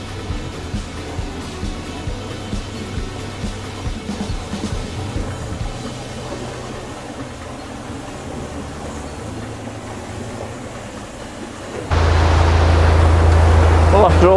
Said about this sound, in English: there's a hell of a lot coming down these bywashes